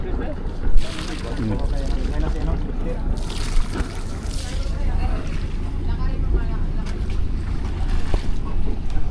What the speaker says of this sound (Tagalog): Isang bangka galing sa laot